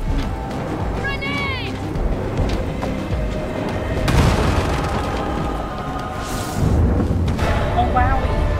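Grenade blasts in the Warhammer 40K: Darktide video game, two heavy booming explosions about two seconds apart amid chaotic combat noise, with voices shouting over them.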